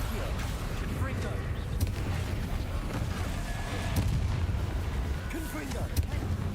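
Repeated Confringo fire blast spells go off in Hogwarts Legacy, a steady run of booming blasts and sharp cracks over a dense rumbling battle background, with voices mixed in.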